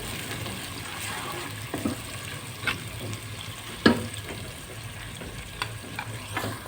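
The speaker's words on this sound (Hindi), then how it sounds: "मैंने इसमें प्याज डाल दिया है। प्याज को हमने लाइट ब्राउन करना है" Sliced onions fry in ghee in a pot for potato curry salan, making a steady close sizzle with a few louder stirring scrapes and clanks.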